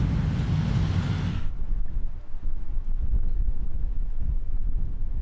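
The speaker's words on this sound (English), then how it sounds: "There's that super dark cloud coming in, and there's wind coming in as well with it, and lightning." Wind gusts over a parking lot as a very dark storm cloud with lightning approaches, a steady roaring rush buffeting the microphone, loud and broad at first, then settling into a lower continuous rumble.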